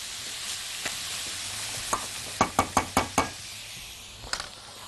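A spoon stirs vermicelli with a stock cube in a pot, giving a faint scraping stir punctuated by a quick series of five or six sharp knocks against the pot.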